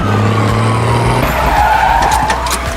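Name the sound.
car skidding to a stop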